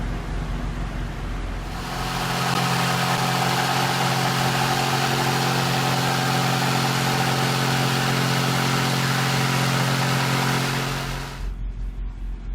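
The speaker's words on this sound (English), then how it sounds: "I did a couple cuts with the jigsaw" A jigsaw cuts through boat floorboards during interior work on a sailboat, a steady, loud buzzing drone running for about nine seconds between quieter pauses at the start and end.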